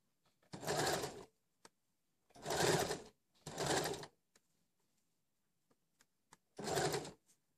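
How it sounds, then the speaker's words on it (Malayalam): A sewing machine stitches piping along the edge of a kurti neckline in four separate bursts of rapid whirring, each lasting under a second, with brief pauses and small clicks between them, close and clear. "ഇനി ഇതിനെ ഇങ്ങനെ ഒരു ചെറിയ വക്കിലേ കൂടെ ഒരു സ്റ്റിച്ച് ഇട്ട് കൊടുക്കാം."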